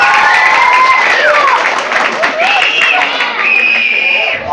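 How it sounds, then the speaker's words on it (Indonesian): Applause and crowd noise fill a Sundanese-language religious gathering at an Islamic boarding school in Garut, a steady, loud wash of clapping that keeps going under a voice talking over it. "tepuk tangan"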